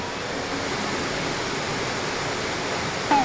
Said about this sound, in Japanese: もしかしたら川の音が怖いのかもしれん